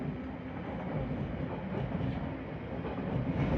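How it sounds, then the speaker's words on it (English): A London Underground Piccadilly line train approaches the platform with a steady low rumble and faint wheel clatter, moderately loud and unbroken throughout. "there's a Piccadilly line train approaching"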